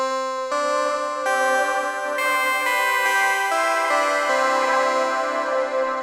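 An Argon synth run through a Walrus Audio Lore ambient pedal, slow sustained chords swelling into a dense, shimmering wash of reverb that blurs each change, close and steady for several seconds with no talking.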